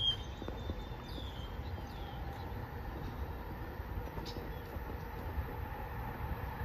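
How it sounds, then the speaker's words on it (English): A distant Amtrak train rumbling past at Mystic, Connecticut in the evening, a low steady roar with faint clattering and a few high squeals, no voices. "Is that a train?"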